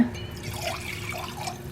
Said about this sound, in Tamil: இதில் பால் கொஞ்சம் ஊற்றிக்கலாம்.